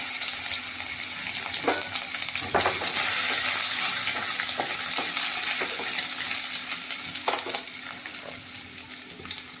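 Ginger fries in hot oil with cumin and bay leaf, a steady close sizzle broken by several clinks and scrapes of a spoon stirring the pan.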